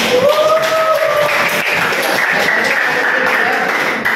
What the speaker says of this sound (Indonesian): Wow, super sekali ya, tepuk tangan.